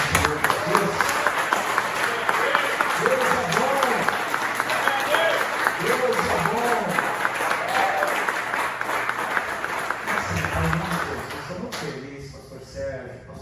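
A church congregation applauds at length, dense clapping carrying steadily for about eleven seconds before thinning out, with voices speaking over and under the applause throughout.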